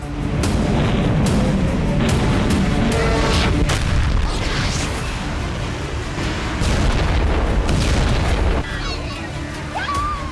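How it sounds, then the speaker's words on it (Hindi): Rocket and missile blasts from a Hezbollah barrage over northern Israel, dense continuous booms and crashing explosions under loud overlapping talk throughout. "उत्तरी इजराइल में हिजबुल्लाह ने इस बार 100 से ज्यादा रॉकेट और मिसाइलें दागी।"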